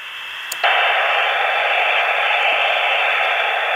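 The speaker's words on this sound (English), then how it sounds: "So let's put the squelch back on, which is this button." Harris military radio with squelch switched off, giving a sudden loud burst of steady hissing static after a brief click, then continuous even white noise until the end.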